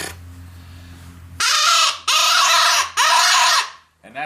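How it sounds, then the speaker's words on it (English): A predator call for coyotes is blown with a fluttering tongue, producing three loud, harsh, raspy bursts in quick succession, close up, followed by a short fainter squeak. "And you can blow in it and flutter your tongue."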